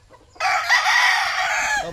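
White Kelso rooster crowing once, loud and close, a single sustained crow lasting well over a second after a brief quiet start, with no other sounds.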